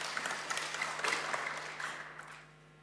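A church congregation at an Indonesian worship service breaks into applause, a dense, steady wash of clapping that holds for a couple of seconds and then thins out toward the end.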